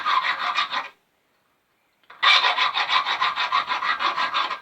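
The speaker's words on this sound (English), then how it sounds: "then I'm going to file it" Metal file rasping burrs off a part clamped in a vise, in steady rhythmic strokes, about a second of filing, a short pause, then over two seconds of continuous close, loud filing with no talk.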